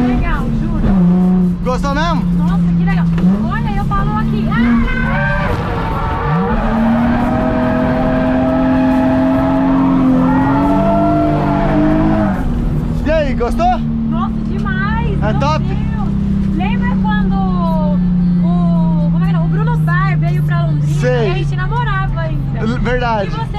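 A car drifting around a track at Piracicaba, its engine droning loud and continuous with rising and falling revs, while people talk and laugh excitedly over it throughout.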